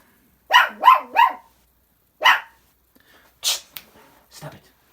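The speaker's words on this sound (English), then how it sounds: "No barking." A dog barks indoors during a live miniature painting session: three quick close barks, then a single bark, followed by softer huffs and a low growl-like sound, with no talk over it.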